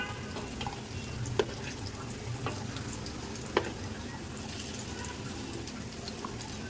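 Bitter gourd (karela) leaf fritters frying in oil, heard as a faint, steady low sizzle with a few soft pops and clicks scattered throughout.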